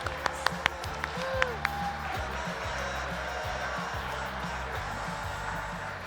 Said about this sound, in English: Another round of applause for all of our tech folks.